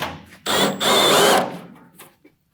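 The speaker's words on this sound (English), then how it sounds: "But we're going to use it in our cordless drill." A cordless drill with a 1/2 inch chuck spins up and bores into metal under steady pressure while a custom brake pedal is built for a 1966 GMC, one loud sustained whine lasting about a second before winding down.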